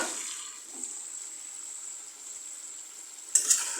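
Fish curry with papaya and potato sautéing in a pan gives a steady, soft sizzling hiss, with a brief clatter near the end.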